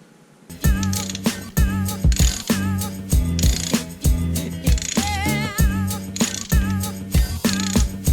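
A ratchet works the 13 mm bolts of a truck alternator, with a rapid, regular clicking in repeated strokes, up close and loud, joined by some metallic rattles.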